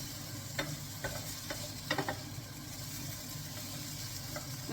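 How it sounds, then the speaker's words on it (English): Thai red chicken curry with turmeric is stirred in a pan, soft scrapes and taps of a spoon over a gentle sizzle and low background hum, close and fairly quiet. "Just give it a little bit of a stir."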